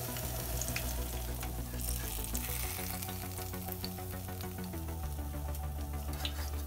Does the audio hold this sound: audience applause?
no